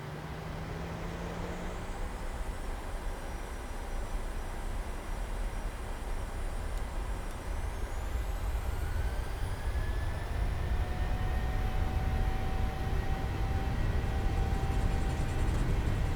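A simulated Boeing 737 roars through its takeoff roll in a PMDG flight simulator, a steady broadband engine rumble building slowly while thin whining tones rise and hold.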